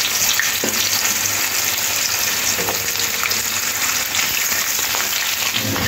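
Potatoes frying in oil for a mixed-vegetable shukto, a loud steady sizzle like heavy rain, with occasional pops and crackles up close.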